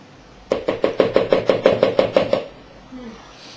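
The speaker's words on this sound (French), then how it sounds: "pour enlever l'excédent de pâte, si ça ne va pas tout seul, à l'aide d'une cuillère, vous faites ça" A spoon knocks excess apple cake batter loose in about a dozen quick, evenly spaced, close taps, followed by a brief quiet tail.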